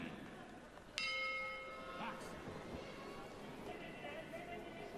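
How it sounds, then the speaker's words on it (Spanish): A boxing ring bell closes a round at a WBA world bantamweight title bout in a large arena: one bright clang that rings on for about a second over steady crowd noise and commentary. "Y aquí se va a terminar la campana, va a sonar."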